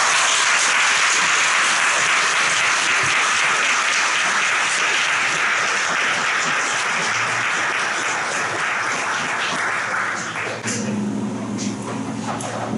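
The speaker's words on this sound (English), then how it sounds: "Please give them a warm round of applause." A school awards gathering for grades 8 and 9, where the audience gives steady, full applause for honorees. Dense clapping lasts throughout and thins slightly near the end.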